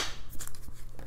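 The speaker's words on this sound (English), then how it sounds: "I'm going to shuffle." A tarot deck is shuffled by hand at close range, giving a quick series of soft, papery riffling bursts against a quiet room.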